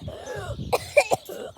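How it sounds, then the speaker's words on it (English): Someone coughs in a short burst of two or three harsh, close coughs with throat clearing, following a stretch of low murmuring. "Why are you coughing so much?"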